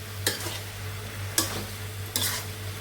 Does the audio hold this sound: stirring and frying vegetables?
yes